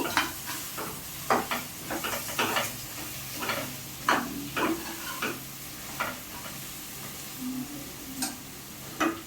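Spoon stirring spicy dried prawn biryani masala with coriander in a pan, giving a steady run of scraping clinks and soft sizzle at close range, with no talk.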